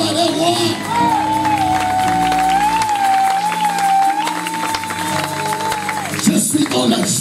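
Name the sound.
church congregation cheering and applauding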